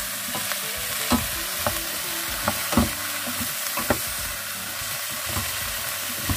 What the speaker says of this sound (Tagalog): Kasi gigisa mo lang lahat ang gulay.